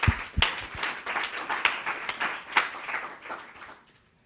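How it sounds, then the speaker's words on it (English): Applause from a conference audience at a medical talk on sequencing and diagnosis of immune-mediated disorders, steady clapping for about four seconds with a couple of sharper claps, then tailing off. "Another round of applause."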